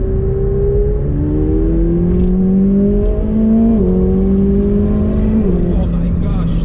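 The engine of a 2019 McLaren 720S on a test drive in San Francisco revs hard and close, its pitch climbing in several rising pulls with brief dips between gear changes, loud and continuous.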